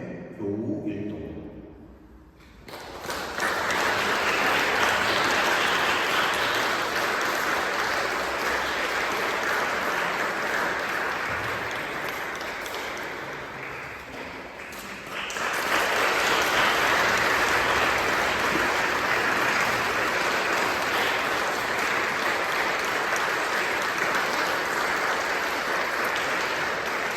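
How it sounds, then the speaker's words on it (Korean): Church congregation at a Sunday worship service applauding warmly, a sustained wash of clapping that swells, dips briefly, then rises again and continues evenly with no one speaking over it. "우리 원로 권사님으로 추대되신 두 분을 향해서 우리 뜨거운 박수 다시 한번 감사합니다."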